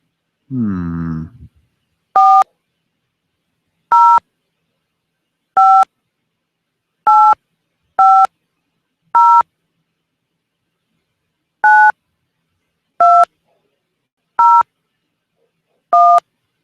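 Telephone keypad tones enter a ten-digit mobile number on a Verizon Wireless automated line, ten clear, loud beeps in an uneven rhythm after a brief opening sound.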